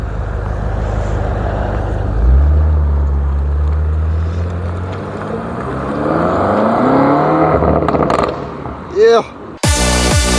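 A BMW M5 Competition F90 is driven out, its engine rumbling low at idle before the revs rise and fall as it pulls away, followed by a sharp burst and people talking at the end.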